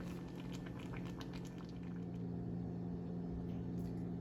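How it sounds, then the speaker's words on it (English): A shrimp and hearts of palm sauce simmers on low in a covered pan, a faint steady bubbling with soft irregular pops and a low hum, close and quiet with no talking. "I'm gonna cover it, let it simmer on low for a few minutes"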